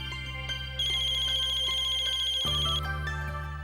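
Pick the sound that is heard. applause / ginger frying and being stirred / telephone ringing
telephone ringing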